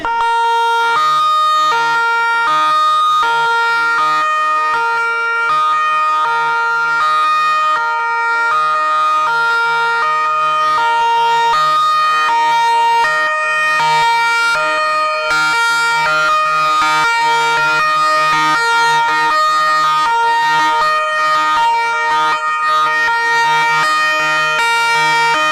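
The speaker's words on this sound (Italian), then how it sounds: "Poi le bitonali, il momento è toccante" Two-tone sirens from about twenty police patrol cars sound together outside Bologna's Ospedale Maggiore, loud, continuous and layered throughout.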